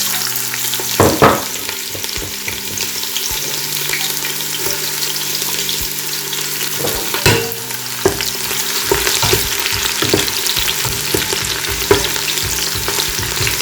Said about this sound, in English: Let's fry some onions.